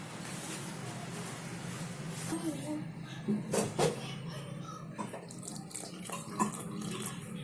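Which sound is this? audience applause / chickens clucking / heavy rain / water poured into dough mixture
water poured into dough mixture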